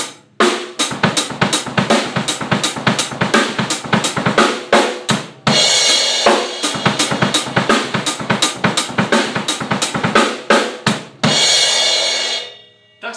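Extended rapid bass drum triplet fill played on a full kit for about a bar and a half; dense, driving kicks and snare hits with crashing cymbals, close and loud throughout.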